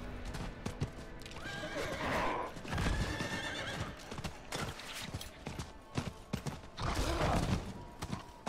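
Horse in the Diablo IV video game, a sequence of clip-clopping hooves with creaks and clatter, and two clear neighs rising over them, loud and close with no talk.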